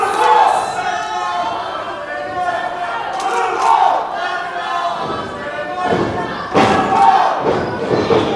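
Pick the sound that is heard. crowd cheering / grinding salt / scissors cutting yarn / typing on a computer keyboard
crowd cheering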